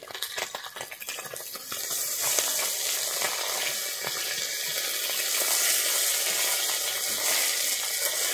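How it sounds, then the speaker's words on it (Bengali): Small mourola fish fry in hot oil with a dense, steady sizzle that swells after the first couple of seconds and holds loud and close to the pan, with no talking. "এটা এক পাশ ভাজা হয়ে গেছে, আমি উল্টে দিচ্ছি মাছটাকে।"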